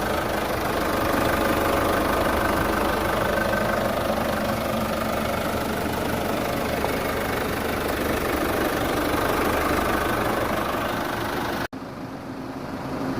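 A Chevrolet Orlando diesel engine idles steadily, a low continuous knocking rumble that stays even before cutting off abruptly near the end.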